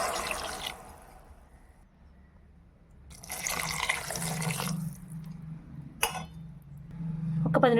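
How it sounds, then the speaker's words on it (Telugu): Water is poured into a stuffed brinjal curry cooking in a pan, splashing in a few uneven bursts of gushing and pattering separated by quieter simmering moments. "కొంచెం వాటర్ పోసేసుకుందాం"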